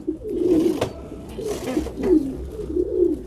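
Pure French meat pigeons coo close by in a series of low, rolling coos, several in a row with brief pauses between.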